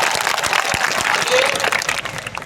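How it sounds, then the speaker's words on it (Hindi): Audience applause at a tribal day celebration at the Salumbar district headquarters, honoring the Dhariyawad MLA: dense, steady clapping from a crowd with some voices mixed in. "विधायक साहब के लिए जोरदार तालियां हो जाए।"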